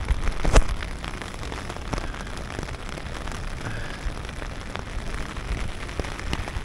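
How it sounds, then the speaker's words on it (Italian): Steady thunderstorm rain patters and hisses on a surface, with scattered louder drops and a brief crackle near the start; no voices. "Si sente la pioggia?"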